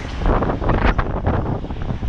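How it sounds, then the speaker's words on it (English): Strong wind buffets the microphone in gusty, rumbling waves, loud and close, with no voices, at Yonge and Eglinton in Toronto. "Pretty windy."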